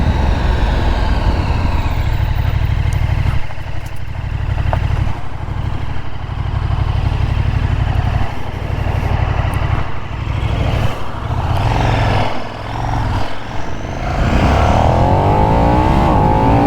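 A 2022 KTM Super Duke 1290 R Evo being ridden, its engine a loud, close, steady drone with small throttle dips, swelling into a rising rev toward the end.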